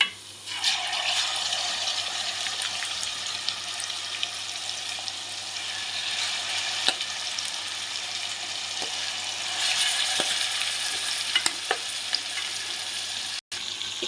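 Marinated mutton fries with spices in a pot for a spicy curry, a loud, steady sizzle that bursts up when the meat goes in, broken by scattered scrapes and taps from stirring.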